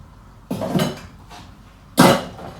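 Pots and casseroles being scrubbed clean with a metal scrubber, two separate bursts of scraping and clattering at close range with a pause between, no talking.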